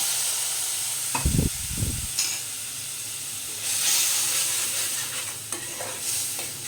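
A short splash of water hits a hot pan of frying spice masala with chili powder and softened tomato, followed by a sustained steamy sizzle and hiss that continues steadily to the end.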